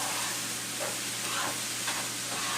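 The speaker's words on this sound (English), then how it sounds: "So you want to mix it like really well with the noodles." Instant noodles stir-fry in a pan with a constant hissing sizzle and a few soft scraping stirs, close and steady throughout.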